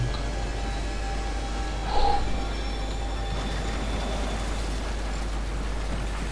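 Train in the game The Darkness II, a steady rumbling roar of rail cars rolling past with faint metallic squeals and a brief louder clank partway through, continuous and fairly loud.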